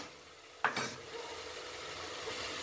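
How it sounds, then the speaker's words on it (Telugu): Ingredients for guthi vankaya, stuffed brinjal curry, frying in a pan, opening with a sharp metallic clink and burst of sizzle, then a steady, fairly quiet crackling hiss that holds to the end, with no talking. "ఇది ఇప్పుడు కొంచెం వేగనివ్వాలి"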